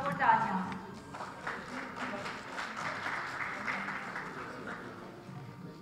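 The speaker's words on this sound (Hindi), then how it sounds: "इनके लिए भरपूर तालियां।" An audience at a certificate ceremony claps in a sustained, moderately distant round of applause, a dense crackling wash that holds steady for several seconds.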